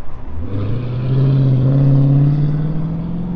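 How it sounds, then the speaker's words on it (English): A car comes up behind a cyclist on a mixed-surface road ride near Fort Worth and Roanoke, its engine hum swelling into a steady, close rumble as it passes. "Yep, car back."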